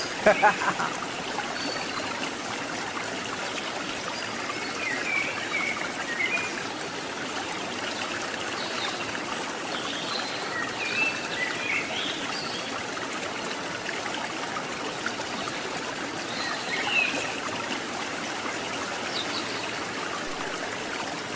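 Jungle stream at Watu Gedek waterfall flows and trickles steadily, a constant close rushing of water with small splashes, no talk over it.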